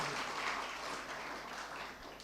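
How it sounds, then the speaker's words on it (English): Scattered audience applause at a university student forum, soft and somewhat distant, keeps a steady patter for about two seconds. "A big clap for yourself for being here."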